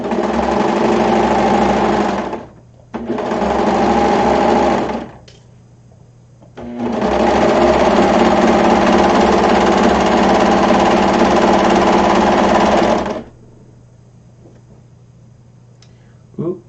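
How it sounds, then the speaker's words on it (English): A sewing machine stitching non-woven fabric runs in three loud, close bursts of steady mechanical whirring, the last one long, with short quiet pauses between them. "Let's sew! Okay. Throw this through the machine."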